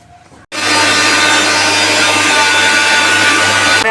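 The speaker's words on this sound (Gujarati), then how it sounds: "એને હવે આપણે મિક્સર જારમાં ફેરવી લઈશું." Mixer grinder whirring loudly as it blends gram flour, water and yogurt in the jar, a steady continuous motor roar with a low hum, starting abruptly after a brief quiet moment and running for over three seconds.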